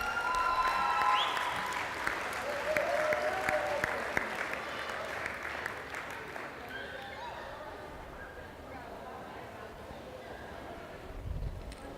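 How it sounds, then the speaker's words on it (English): Round of applause for the girls at a school sports banquet, dense crowd clapping that starts strong and slowly thins out over several seconds, with voices and cheering mixed in. "Can I hear a big round of applause for these girls"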